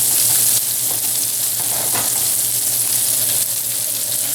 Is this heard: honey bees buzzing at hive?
no